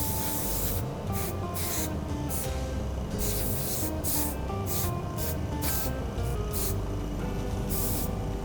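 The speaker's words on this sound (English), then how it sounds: "with the airbrush, if you go in closer, it's going to be darker" An airbrush sprays color onto sugar flowers for cake decorating, a close hiss broken into many short on-off bursts, with no talk over it.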